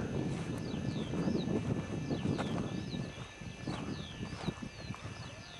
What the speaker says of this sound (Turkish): Yoluma inek sürüsü çıktı.